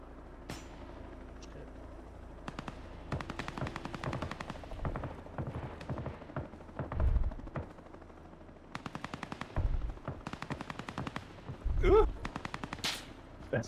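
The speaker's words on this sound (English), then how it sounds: "I see tracer fire going up to your elevated position" Rapid automatic gunfire during a bank robbery shootout in a video game, bursts of clattering shots with heavier booms mixed in, loud and near, with a voice talking over parts of it.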